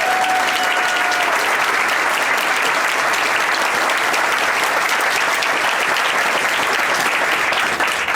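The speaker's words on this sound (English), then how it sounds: "Let's give another round of applause for that." A strong, sustained round of applause from a gathered audience at a speech in the Leggett Building, dense clapping holding steady throughout with a brief whistle near the start.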